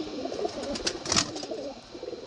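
A male Madrasi flying pigeon coos softly nearby, low throaty murmurs repeating over a couple of seconds with faint background rustle.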